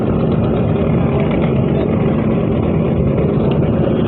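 Engine of the Kuakata 2 river passenger launch ship picking up speed, a loud, dense, continuous droning rumble that holds steady and close throughout with no pauses.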